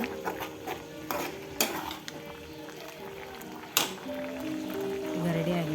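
A pan of potato sagu curry bubbles and is stirred, with a spoon scraping and clinking against the pan in a few sharp knocks, while a voice talks over the cooking throughout.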